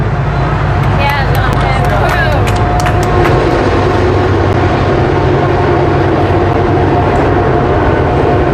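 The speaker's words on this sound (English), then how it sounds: "I'm going to pause for the freedom train." A passing train fills the scene with a loud, steady rumble and rush that never lets up, while indistinct voices and crowd babble murmur underneath.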